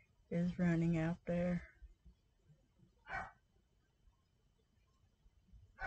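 A house dog gives three loud, close barks in quick succession, followed by a brief spoken voice and a quiet room.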